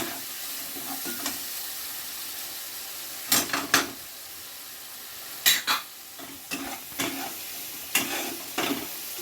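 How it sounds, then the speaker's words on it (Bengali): A spice masala of turmeric, Kashmiri red chilli, coriander and cumin powders sautés in a pan for katla fish kalia. Soft frying hiss is broken by several sharp scraping stirs of a spoon, with no speech. "মশলাটা ভালো করে কষিয়ে নেবো"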